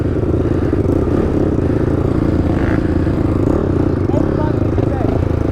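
A 2014 Honda 450 dirt bike ridden wide open in third gear at an off-road riding spot, a steady loud engine drone throughout with people talking over it.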